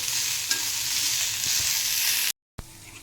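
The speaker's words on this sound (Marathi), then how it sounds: "मंदाच्यावर व्यवस्थित भाजून घ्यायचं कांदा भाजल्यानंतरच खोबरं घालायचं तो खोबरं लगेच भाजून येतं" Onion and grated coconut dry-roasting over low heat in a kadhai, a dense, loud continuous sizzle-like hiss with faint stirring scrapes, cutting out abruptly near the end before resuming more quietly.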